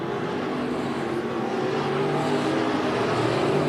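IMCA Northern Sport Mod race cars in a heat race at Bakersfield Speedway, a thick, unbroken roar of several engines holding steady and loud throughout.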